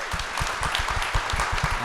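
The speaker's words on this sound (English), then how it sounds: "let's give her a round of applause" A round of applause from the audience at an entrepreneurship event, brief and fairly close, with a steady patter of hand claps.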